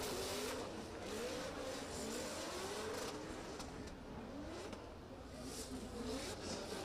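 Drift cars at an international drift championship in Oman sweep past with a sustained, loud engine roar and rising and falling revs, heard steadily across the whole stretch with no one talking over it.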